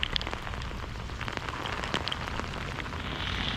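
Cold winter rain pours down torrentially on an outdoor pickerel fishing spot. It makes a dense, continuous hiss with sharp drop patters striking close by, and no one speaks.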